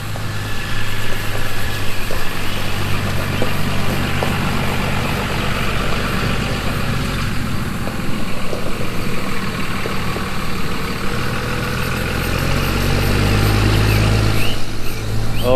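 A second-generation truck engine idles loudly nearby, a steady low rumble that holds evenly throughout with no voices over it.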